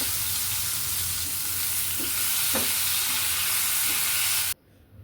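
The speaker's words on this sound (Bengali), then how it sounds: "এখন এভাবে করে এটা খুব সুন্দর হইতে আমি ভেজে নেব।" Pointed gourd (potol) frying in a pan gives a steady, loud sizzle with a few soft stirring knocks, and it cuts off abruptly just before the end.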